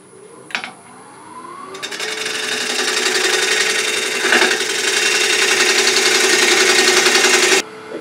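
A wood lathe spins a cherry bowl while a bowl gouge cuts a tenon. A short scrape comes first, then a loud, continuous, rough cutting whir holds steady before stopping abruptly near the end, with no talk.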